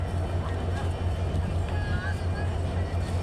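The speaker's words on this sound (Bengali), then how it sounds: "যশোর রেলওয়ে স্টেশনে আমরা এখন আছি। এখানে তিনটে গাড়ি দাঁড়িয়ে আছে, আপনারা দেখছেন, এবং প্রচুর মানুষের ভিড়।" A busy crowd fills Jessore railway station, where three trains stand at the platforms, producing a dense murmur of voices with a low rumbling hum beneath it that stays steady and close throughout.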